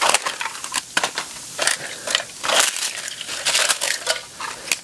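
A rubber glove frozen in liquid air crunches and shatters like glass, giving a continuous run of sharp, brittle crackling and snapping, close and loud.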